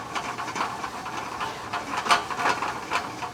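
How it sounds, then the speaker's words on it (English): Steady hissing sizzle with scattered crackles and pops as crushed red pepper cooks in a pan for pasta puttanesca, close and fairly loud, running without a break and with no talking. "we're gonna let that kind of fizzle and sizzle and come together"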